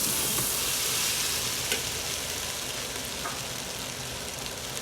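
Salt fish cook-up rice ingredients with pumpkin frying in a pot, a steady loud sizzle with a few faint stirring scrapes, continuous and close, no talk.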